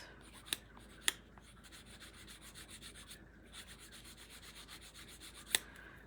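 Sandpaper rubs steadily across a stained wooden craft piece, a soft continuous scratchy rasp with a few sharp clicks from brief knocks.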